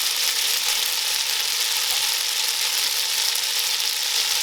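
Spaghetti sizzling in a pan with cooked garlic over medium heat, a steady, close, bright frying hiss that holds at the same level throughout with no talk.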